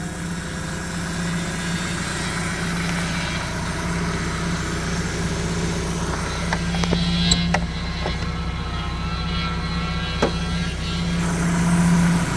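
A 1998 Dodge Neon R/T engine idles steadily with a low, even hum, joined by a few faint clicks and ticks near the end.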